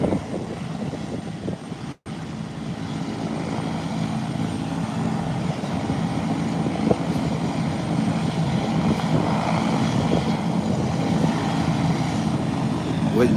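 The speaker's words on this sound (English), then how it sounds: "they are taxiing from the same taxiway" Airplanes taxiing at an airport make a steady, broad engine roar that holds level for the whole stretch, dropping out briefly only once near the start.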